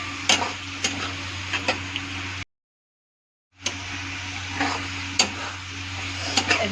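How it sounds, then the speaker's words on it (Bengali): Fried potatoes tossed in sizzling masala for palak paneer, with a steady close-up fry hiss and a few sharp spatula scrapes, cut by a brief silent gap. "আর একটু ভাজা ভাজা করবো।"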